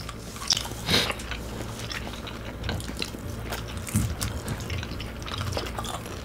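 Crispy pan-fried Korean dumplings being bitten and chewed close up, with several sharp crunchy bites followed by steady moist chewing, no talking.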